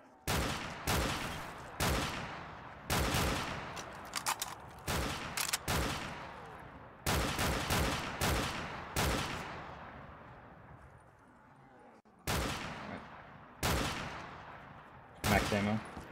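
Gunfire in Black Ops 3 custom zombies mode: repeated bursts of rapid shots in clusters with short gaps between them, loud and close, with a brief quieter stretch partway through.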